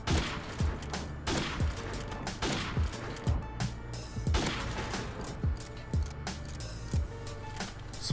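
Repeated gunshots ring out at a firing range in Call of Duty (2017), sharp loud bursts coming in uneven succession with short pauses between them.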